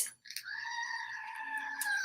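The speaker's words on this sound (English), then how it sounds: "or Screaming Goat, right?" A Screaming Goat novelty toy lets out one long, loud, wavering bleat-like scream. It starts after a brief click and holds steady to the end, close and alone.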